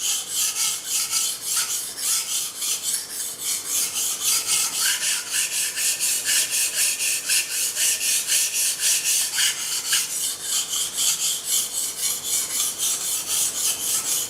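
A Japanese nakiri knife, a Nihonto blade of 60–62 HRC, is sharpened by hand on a whetstone: continuous rhythmic rasping strokes, close and even, back and forth for the whole stretch.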